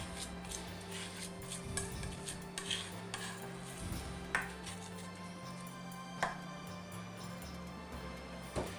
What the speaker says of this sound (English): use the flat edge of my knife to give it a good mash